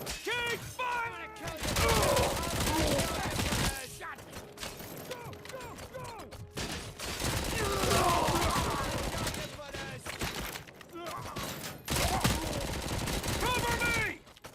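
Sustained gunfire in the RoboCop video game, dense bursts of automatic fire and clattering mechanisms rattling loudly across the whole stretch, with shouted voices breaking in now and then.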